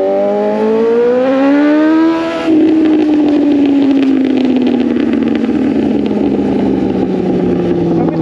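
Suzuki GSX 750 motorcycle with an aftermarket exhaust, revving hard with rising pitch, then a clutchless upshift at about two seconds and a steady drone that slowly falls in pitch, loud and close with no talk.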